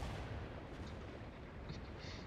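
Heavy artillery strike in the War Thunder tank game, a dense, continuous rumbling roar of distant blasts filling the whole moment with no clear break.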